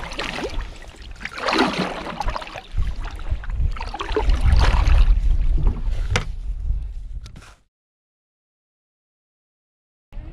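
A canoe is paddled along the river Lippe in changing weather. Close, fairly loud swishes and splashes of the paddle repeat in an irregular rhythm, mixed with wind buffeting, then stop abruptly into silence.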